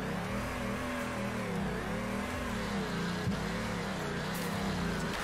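Engine of a Nissan 350Z drift car in Torque Drift, swapped to either a V8 LS or an RB26, revving hard and steadily with a rising and falling tone, loud and continuous with no talking.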